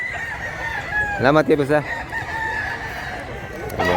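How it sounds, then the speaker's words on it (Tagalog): A rooster lets out a loud, close crow mid-way through, with chickens clucking around it in a backyard, and someone speaks briefly before the call. "Ayan, manok doon."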